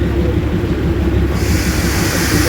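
The Darjeeling toy train approaches with a loud, continuous rumble and rhythmic wheel clatter close by, building steadily throughout.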